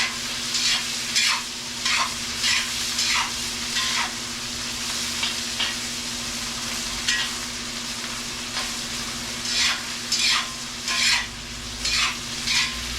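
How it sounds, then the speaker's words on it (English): Deer meat stir-fried in a smoking-hot pan, a constant loud sizzle broken by regular bursts of scraping as the meat is stirred around, close up with no talk. "And as you can see, it's starting to smoke. You want to stir it around."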